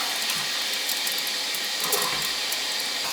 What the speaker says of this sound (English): Let's fill it and see.